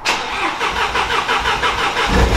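Ford Shelby GT350 V8 starting up after a repair, a loud crank and catch that settles into a steady, rough-sounding rumble heard close up, with a deep low surge near the end.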